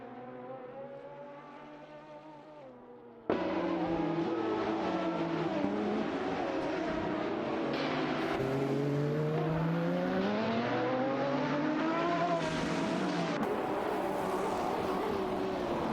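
A quiet engine hum is followed by a sudden jump to loud, sustained roaring of race cars in a video game race, with layered whining engine tones sweeping up and down as they accelerate and shift, and no voices.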